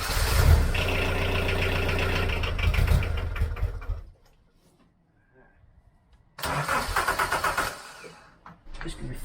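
The starter on a Remet branch logger cranks over and the engine runs roughly for about four seconds, goes quiet, then a second start fires up and runs loudly again.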